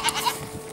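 A fainting goat gives a short, close bleat, set against low farmyard background noise.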